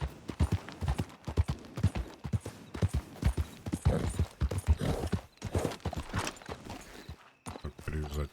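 Horse hooves clip-clop in Red Dead Redemption 2, a steady close walking rhythm of hoofbeats that runs under someone talking, briefly dropping out near the end.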